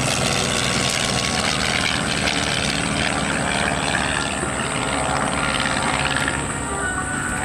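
A LongEz canard aircraft flies an airshow demonstration at Willow Grove in 2003, its engine making a steady, loud, continuous roar throughout with no break in the noise.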